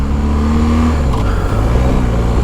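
A BMW R 1250 GS motorcycle engine revs hard under acceleration, a loud, steady, close-up engine drone that holds throughout and rises slightly in pitch.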